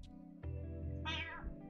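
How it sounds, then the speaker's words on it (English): Pet cats fighting indoors, with a brief yowl followed by a loud, drawn-out caterwauling meow close to the recorder, with no voices over it. "Oh, my cats are actually fighting."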